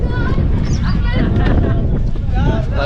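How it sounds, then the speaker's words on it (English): Strong gusting wind at the Egyptian pyramids buffets the microphone in a constant low roar, with tourists' voices chattering faintly underneath. "Super windy."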